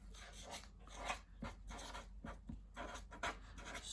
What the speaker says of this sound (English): So why don't we write on the top here